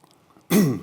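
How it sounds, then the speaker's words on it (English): A single sharp post-COVID cough bursts out after a quiet moment, loud and close. "I've got a post-COVID cough and I can feel it coming on."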